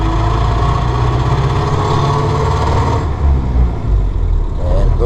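A 1931 Ford Model A engine running loud and close on the road, a steady low rumble that shifts and surges slightly partway through as the car is taken up through the gears, with no talk.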